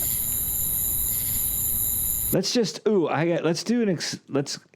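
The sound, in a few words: cicada sound effect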